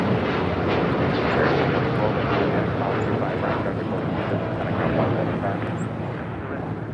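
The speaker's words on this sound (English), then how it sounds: "That was flight heading to Hong Kong, that United Dreamliner." Loud, sustained jet engine roar of a United Dreamliner at LAX departing for Hong Kong, a broad rumbling wash that stays strong and slowly eases toward the end, with no talk over it.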